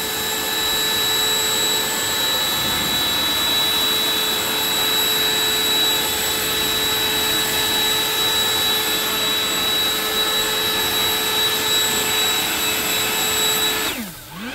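An Echo DPB-5800T 58V battery backpack leaf blower running in turbo mode, a loud steady high-pitched electric whine and rush of air held throughout, then spinning down sharply at the very end.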